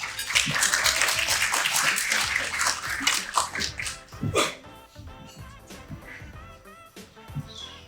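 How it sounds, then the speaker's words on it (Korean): Audience clapping at a Korean real estate seminar as a speaker is introduced, dense and loud for several seconds, mixed with music, then thinning to scattered claps. "큰 박수 부탁드립니다."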